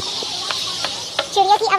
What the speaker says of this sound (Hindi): चिड़िया की आवाज आ रही है, कितनी चिड़िया है ना यहाँ।